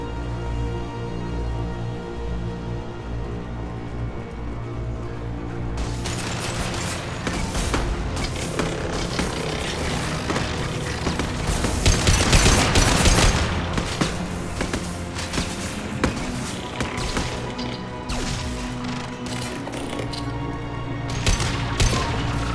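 An overridden turret in Mass Effect 2 opens up with dense, continuous rapid gunfire and booming impacts, building from a quieter hum into a sustained loud barrage that lasts to the end.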